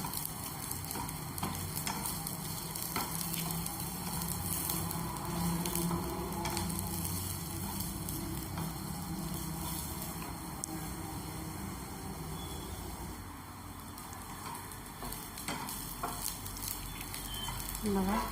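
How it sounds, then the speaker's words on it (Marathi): Grated coconut dry roasting in a pan gives off a faint, continuous crackle and patter, with occasional scrapes as it is stirred. "खोबरंही छान भाजून घेऊया आपण याच्यातच"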